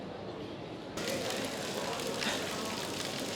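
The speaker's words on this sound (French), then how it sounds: "il pleut comme vache qui pisse" Heavy rain in Barcelona pours down as a dense, steady hiss of drops on surfaces, jumping suddenly louder after the first second and staying constant and close.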